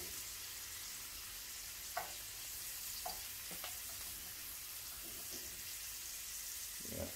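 Fish frying in a pan, a steady quiet sizzle broken by a few soft clicks and taps, with no talking.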